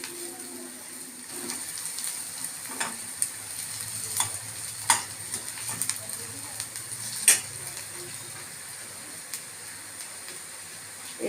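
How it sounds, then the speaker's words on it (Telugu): Pepper and garlic powder frying in a pan for tomato rasam, a steady soft sizzle with occasional light scrapes and stirring clicks, close and fairly quiet, no talk over it. "బాగా వేయించుకోవాలి."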